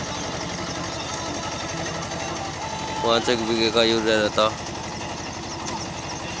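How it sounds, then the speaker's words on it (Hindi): An HMT 2522 tractor engine runs steadily at close range with an even, throbbing idle, heard beneath continuous talking throughout. "इतना शानदार ट्रैक्टर चल रहा, लाजवाब।"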